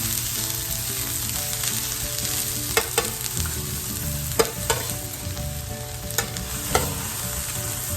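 Onions and green peppers fry on a hot griddle with a steady close sizzle, broken by a few sharp scraping and stirring clicks from a spatula in the second half.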